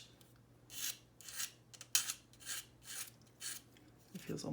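Brittle thin plastic of a Hive Tyrant model kit being sanded by hand, a series of about seven short rasping strokes in a steady back-and-forth rhythm, close up and fairly quiet.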